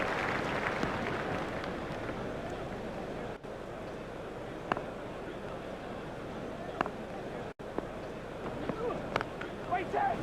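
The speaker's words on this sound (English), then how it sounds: "The crowd were brought to their feet by that shot." A stadium crowd in the cricket video game Cricket 2002 roars and cheers steadily after a lofted shot, the noise dense and continuous throughout, with a game commentator's voice speaking over it.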